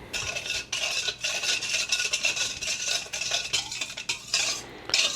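A whisk stirs granulated sugar into yeast and water for pizza dough, giving a steady scraping and clinking of metal against a bowl in quick repeated strokes, close and fairly loud, with no talking.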